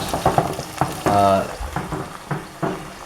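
Spices sizzle and crackle steadily in peanut oil in a pan while a utensil stirs and scrapes, with a brief voice-like tone partway through.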